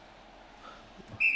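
A referee's whistle blows during an Inter vs Juventus football match: one short, sharp, fairly loud blast near the end, above low crowd and room murmur.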